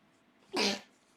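A single short sneeze nearby, moderately quiet, over faint room background, with no speech.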